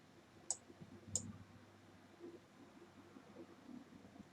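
Two quiet, sharp mouse clicks about half a second apart while adding an asset in building lighting management software, followed by faint low background hum.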